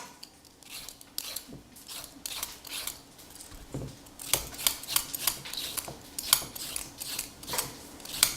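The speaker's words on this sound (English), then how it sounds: "The carrots I peel." Carrots being peeled with a sharp vegetable peeler, a run of quick rasping strokes that grow louder and more regular partway through, close by with no talking.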